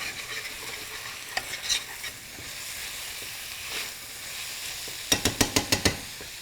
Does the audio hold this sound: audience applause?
no